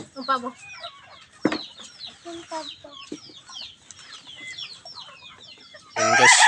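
Turkeys and chickens cluck and chatter nearby at feeding in an irregular farmyard mix, with bird calls scattered through, ending in a loud burst of squawking.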